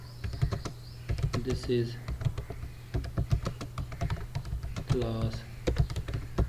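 Rapid clicking of computer keyboard keys while code is typed for a C++ programming lesson, irregular bursts of close keystrokes under someone speaking briefly.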